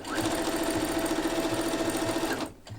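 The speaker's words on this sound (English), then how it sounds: "I also decided to serge all the seams." A serger overlocks the seams of a patchwork dress, running in a steady, loud, continuous whir that stops abruptly at the end.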